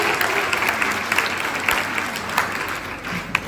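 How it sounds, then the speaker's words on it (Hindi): A crowd at a special program for girls and women bursts into loud, welcoming applause, dense and steady for the whole stretch, with faint voices mixed in. "जोरदार तालियों से हमें उनका स्वागत करना चाहिए।"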